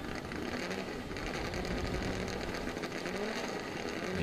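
Race cars on the start line at the Winton Festival of Speed, engines idling and revving together in a dense, steady rattling drone heard from close by, with no talk over it.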